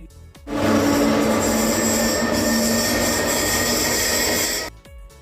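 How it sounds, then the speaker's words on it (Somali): A high-speed passenger train in Spain roars past at close range, its steady rushing rumble swelling in and holding loud for about four seconds before cutting away, with no voices over it. "sidoo kale waa tareenka labaad ee ugu xawaaraha sare ee gudaha dalka Spain."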